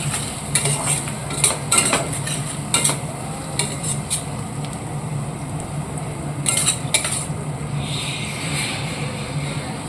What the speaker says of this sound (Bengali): খুব সামান্য সামান্য জল দিয়ে দিয়ে এটাকে কষতে থাকবো